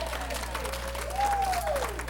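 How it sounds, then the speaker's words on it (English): An audience applauds for a balloon needle magic trick at a 95th birthday gathering, a soft steady patter under a low hum, with a voice sliding in pitch over it. "We ought to give him a round of applause for this."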